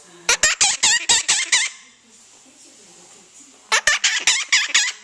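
A pet parrot imitates a chicken with two bursts of rapid, squawky clucking calls, several sharp notes in each, close and loud, separated by a short quiet gap.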